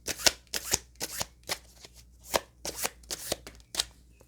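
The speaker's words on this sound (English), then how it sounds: "Pull some cards on that." Tarot cards being shuffled by hand, a rapid series of sharp riffling snaps at an even rhythm, close and clear with no talking.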